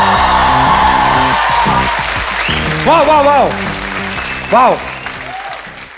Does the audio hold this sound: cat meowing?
no